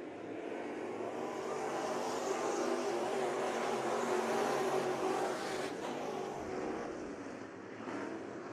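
Race cars circle Bakersfield Speedway during a 12-lap main event, their engines producing a continuous loud roar heard from a distance, with no voices over it.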